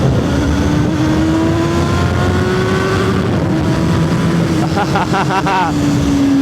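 CFMOTO 750SR-S motorcycle engine revving during a street ride, a loud continuous drone with rising and falling pitch over heavy wind rush, with a burst of quick revs near the end.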